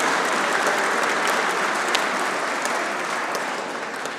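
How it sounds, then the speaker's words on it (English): Dense, loud applause from a large audience at the Corps of Royal Engineers Engineering Excellence Awards, sustained throughout and tapering slightly at the end. "let's give him a round of applause"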